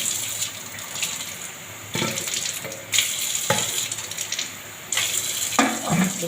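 Water running from a tap into a cooking pot after frying spices, in broken bursts with brief pauses, close and fairly loud with a light sizzle underneath.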